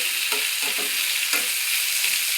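Onion and kanthari chilli go into a hot pan, setting off a dense, even sizzle close by, with a few soft stirring scrapes and no voices.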